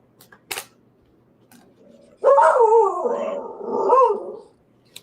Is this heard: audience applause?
no